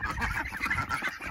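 Ducks on a permaculture homestead call in a steady run of nasal honking quacks, close and fairly loud with no talk over them.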